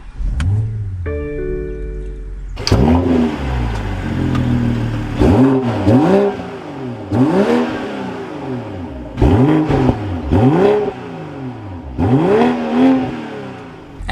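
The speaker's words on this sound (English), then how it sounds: "let's fire this up now" A 2022 BMW M440i xDrive Gran Coupe fires up with a brief starter whir and a loud catch, then its engine blips repeatedly in rising and falling revs, close and alone.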